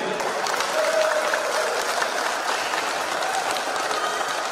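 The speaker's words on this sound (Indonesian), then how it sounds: "mari aplaus dulu untuk Pak Bupati dan Wakil Bupati yang hadir di sini" Applause for the Regent and Vice Regent at a Halal Bihalal and inauguration gathering in Indramayu: a hall full of people clapping steadily and evenly for several seconds, fairly close and constant in loudness.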